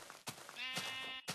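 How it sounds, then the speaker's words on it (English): A sheep bleating in Minecraft: one wavering, nasal bleat lasting about half a second, close and clear, framed by short bursts of game noise before and after. "Oh, hello sheep."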